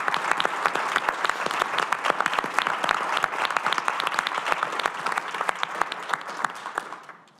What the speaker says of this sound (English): Let's give a round of applause for our awardees